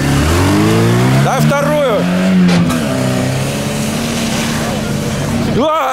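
A Moskvich 412 off-road car revs its engine hard at an off-road competition, the pitch climbing and falling in loud surges while someone talks over it close by.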